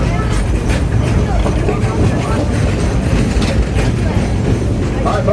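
A steady loud rumble and rattle of a Frisco Silver Dollar Line train car rolling downgrade, continuous low clatter with faint squeaks throughout.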